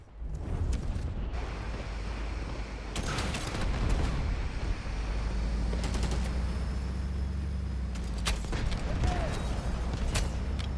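An artillery barrage in the shooter Delta Force brings a string of heavy booming blasts and gunfire over several seconds. The impacts are loud and rumbling, with crackling shots in between, and the pounding continues throughout.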